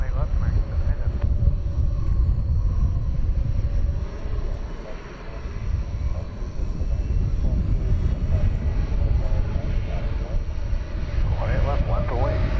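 A heavy American Airlines jet departs DFW Airport at night from runway 18 left, a broad, steady engine roar filling the scene at a distance, with faint radio chatter underneath.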